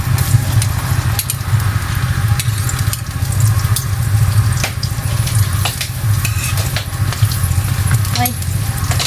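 Garlic frying in a hot pan for pancit, a dense continuous sizzle with crackles and occasional stirring clinks, close and loud throughout.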